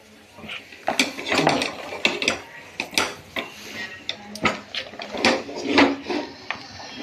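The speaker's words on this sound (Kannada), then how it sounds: "ನೀಟಾಗಿ ಒಂದು 4-5 ನಿಮಿಷ ತಿರ್ಸ್ಬೇಕು ಇದನ್ನು." Fenugreek ragi mudde is stirred in a pot over a low flame, with irregular, close knocks, scrapes and clatters from the stirring utensil against the pot.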